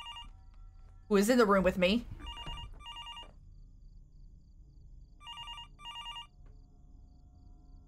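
Telephone in the video game Fears To Fathom: Norwood Hitchhike, ringing in clear electronic double bursts that repeat after a pause. A voice speaks briefly over the first ring, then the rings continue alone in a quiet room.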